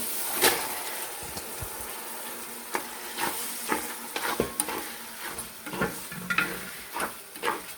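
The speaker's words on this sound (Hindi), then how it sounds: "और इसको हल्का सा इसमें फ्राई करते हैं।" Chana dal frying and being stirred into sizzling masala for a dhaba-style dal, with a steady sizzle broken by repeated scraping stirs of a spoon against the pan.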